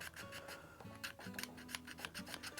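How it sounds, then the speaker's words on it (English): Metal file rasping a burr off a tubular lock rotor, a series of quick, close, scratchy strokes in an uneven rhythm, about a dozen passes. "you can just file this off. Otherwise you'll never get the rotor back in. You got to get this burr off."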